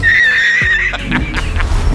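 A horse in Tanzania's Tarangire National Park, startled near a small tortoise, gives a loud, close whinny that wavers for about a second before fading into the rustle of the open plain.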